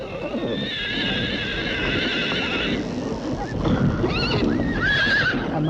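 A horse on a Mongolian farm whinnies loudly, followed by shorter neighs, against a busy outdoor backdrop of hoof clip-clop and general rustling noise.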